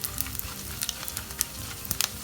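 Urad dal frying in oil over a low flame, a dense continuous sizzle and crackle with frequent small pops, close and unbroken by voices.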